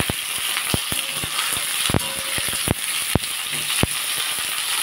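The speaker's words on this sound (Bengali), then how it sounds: "আলু টমেটো সব বন্ধুরা একসাথেই ভেজে নেব।" Potatoes, tomatoes and onions fry together in a pan with a constant hissing sizzle, broken by sharp clicks and taps of a utensil, near and clear, with no voices.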